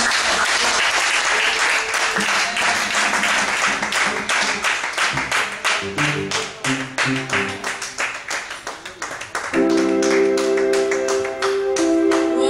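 Loud, sustained applause fills a church service, dense clapping that thins into separate rhythmic claps before a sustained musical tone enters near the end, with faint voices underneath.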